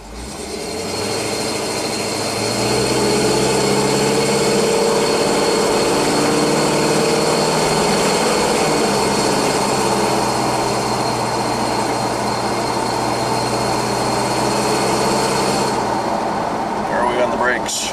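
A 1984 Chevy K20 truck fitted with a new muffler drives along, its engine holding a loud, steady low drone with road rumble from start to finish.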